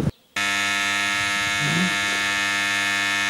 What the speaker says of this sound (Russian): Откачиваю воду